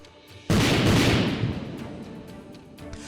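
A single loud, sharp blast from an Indian Army swarm-drone strike bursts in and then rolls into a long, fading rumble, with no voices.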